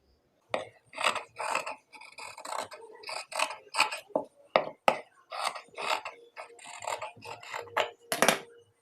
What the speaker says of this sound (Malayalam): ഇനി നമുക്കിതൊന്ന് കട്ട് ചെയ്തെടുക്കാം.